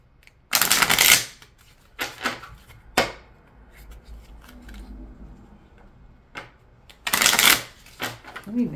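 A deck of gypsy cards is shuffled by hand in a quiet room, with several sharp riffling bursts and softer flicks and taps between them, close and fairly loud.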